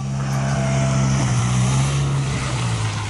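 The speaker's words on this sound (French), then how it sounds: "Il y a des gens qui pensent que dans les parcs on peut venir en scooter" A scooter engine drones steadily through a park in Grenoble, a loud continuous low hum holding for the whole span with no break, with no talk over it.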